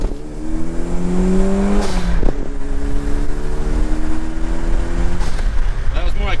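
A Toyota MR2 Turbo accelerates hard through first, second and third gears, engine note climbing in pitch then dropping at each shift, loud and close with wind noise and brief road sounds.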